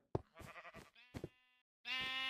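Several sheep in the Minecraft video game bleat in short, close, clear calls, with brief pauses between them and a longer bleat at the end.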